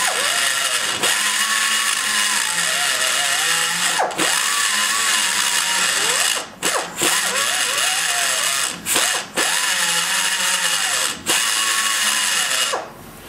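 A high-pitched power tool grinds steadily inside a big-block Chevy cylinder head combustion chamber, with a loud continuous whine broken by a few short pauses and pitch dips as the cutter shifts position.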